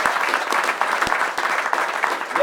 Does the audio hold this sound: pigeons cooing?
no